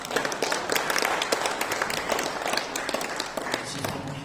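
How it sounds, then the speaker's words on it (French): An audience at a Christian conference claps in a quick, dense patter of many hands, moderately loud and steady for a few seconds. "On peut l'applaudir."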